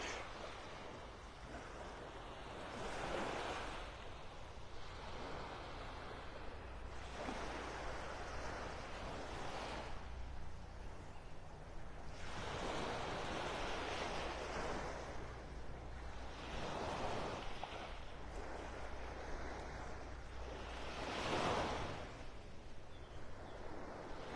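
Ocean surf breaks on a beach in North Naples, Florida, with steady rolling waves swelling and receding every few seconds, fairly loud and close, under a constant wind rush.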